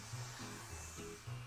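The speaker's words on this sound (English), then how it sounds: "46-year-old full-time hairdresser Claire uses her professional hairdryer at work and at home." A professional hairdryer running in a hairdresser's workplace, a close, steady airy roar with a low motor hum that wavers slightly in pitch.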